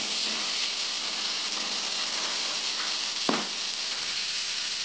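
Onions frying in oil in a pan for ghee rice, giving a steady, even sizzle and hiss throughout, with one brief clink midway and no talking.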